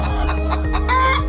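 Hens cluck steadily and close up inside a coop that holds about 300 chickens and is run by a disability group in Yogyakarta, Indonesia, with overlapping calls and no talk.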